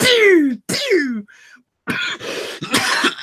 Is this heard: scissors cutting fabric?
no